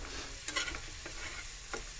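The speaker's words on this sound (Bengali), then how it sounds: "ভালো করে নেড়ে নেব।" A spoon scrapes and stirs spices in a hot pan of oil while cooking shukto, with a soft sizzle underneath and a few sharp scraping clicks, close and fairly quiet.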